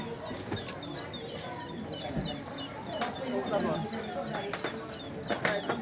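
Chickens cluck and squawk steadily amid outdoor clatter during typhoon flooding, with occasional wing flaps and people talking nearby in the background.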